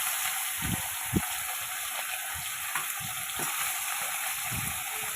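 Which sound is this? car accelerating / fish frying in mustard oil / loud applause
fish frying in mustard oil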